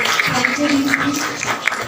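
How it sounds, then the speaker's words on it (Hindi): An audience at a Brahma Kumaris Janmashtami quiz event gives a burst of applause, a dense, steady patter of many hands clapping with a few sharper individual claps standing out. "एक बार जोरदार ताली दीदी के लिए।"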